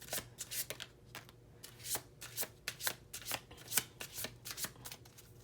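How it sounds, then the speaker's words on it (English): A deck of oracle cards is shuffled by hand at close range, producing quick, crisp riffling bursts in an irregular rapid rhythm, fairly quiet with no talking. "I'm going to shuffle you really quick."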